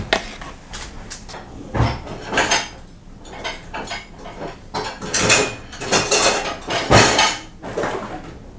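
Dishes, pots and cutlery clatter and clink at close range as a dishwasher is loaded, with irregular bursts of knocks and rattles and no talking.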